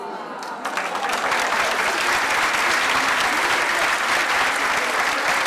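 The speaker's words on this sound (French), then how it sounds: "il est content, il a eu ses applaudissements" Conference audience bursting into applause after a brief quiet start, then a dense, even roar of many hands clapping that holds steady to the end.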